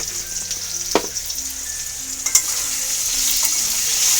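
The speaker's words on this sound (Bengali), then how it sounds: "এখন এটা একটুখানি হালকা করে একটু ভেজে নেব" A soyabean and potato mixture fries lightly in a pan, a steady close sizzle broken by two sharp spatula knocks, the hiss swelling louder toward the end, with no talking.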